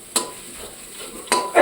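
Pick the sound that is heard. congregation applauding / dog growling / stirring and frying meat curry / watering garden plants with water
stirring and frying meat curry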